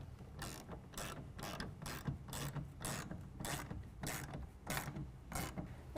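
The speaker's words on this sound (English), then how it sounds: "we're going to tighten that down with a 7/16 once we get that into place" A ratchet tightens a 7/16 clamp on a tonneau cover rail of a Chevy Silverado truck bed, giving rapid repeated clicking strokes in an even rhythm, close and moderately quiet, with no speech.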